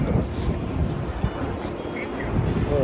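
Cold wind blows steadily at the seaside near the Seven Sisters cliffs on the South Downs, buffeting the microphone with a continuous low rumble and gusty roar throughout.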